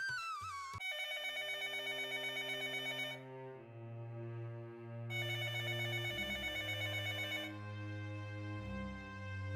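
Telephone ringing unanswered with a melodic electronic ringtone, a steady run of bright repeating tones, close and clear, with no voices.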